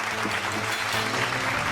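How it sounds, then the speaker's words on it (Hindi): Crowd applause at an SSC GD success felicitation ceremony, a steady wash of many hands clapping in a hall, moderately distant, with a low hum underneath. "जोरदार तालियां अनिल कुमार प्रजापति।"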